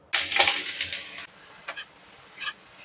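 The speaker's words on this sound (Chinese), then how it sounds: "另外放点猪油炒土豆丝" Shredded potato hits hot lard in a wok with a loud, bright sizzle for about a second, then quieter spatula scrapes and brief crackles follow as it is stir-fried.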